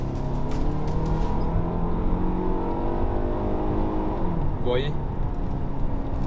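A Hyundai Tucson engine in sport mode revs hard and steadily, its pitch rising until an upshift near 6100–6200 rpm brings a sudden drop, all under someone talking throughout.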